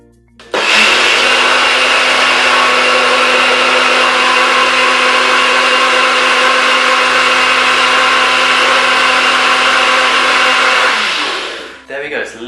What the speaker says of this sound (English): Let's get it blended.